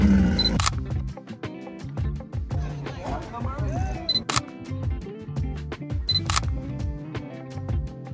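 A single-lens reflex camera fires rapid shutter clicks, sharp, close and repeated in bursts, as cars are photographed at an outdoor car meet; someone talks over the clicking.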